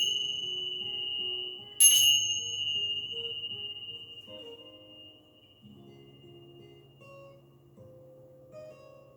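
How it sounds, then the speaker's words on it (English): Bells ring during a chair yoga relaxation session, giving soft sustained tones with a faint high hum and one brighter strike near the start, layered and quiet throughout. "Let your mind, your body, and your soul absorb the vibrations of the bells"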